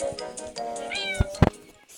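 A short, high-pitched video game cat meow rises and falls, followed by a couple of quick thumps, with a faint hum underneath.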